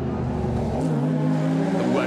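A Porsche race car at the Le Mans Classic 2022 historic racing event gives a loud, steady engine drone with a shifting pitch, close and sustained throughout.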